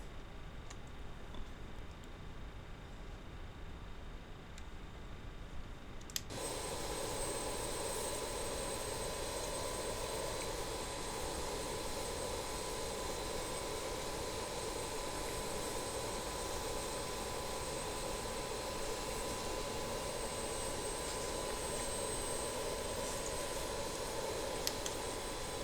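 Jet engines of an RJ100 airliner in Microsoft Flight Simulator spool up at about six seconds, a sudden broadband roar with a steady whine that then holds loud and constant, with no talking.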